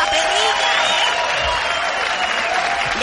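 An audience at a live Mexican radio show applauds steadily, a dense, even wash of clapping with a crowd murmur under it, lasting throughout.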